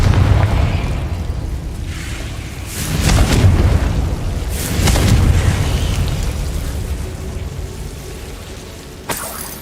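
A Confringo fire spell from the game Hogwarts Legacy goes off in two booming, roaring explosive bursts a couple of seconds apart, each with a rumbling tail, followed by a sharp pop near the end.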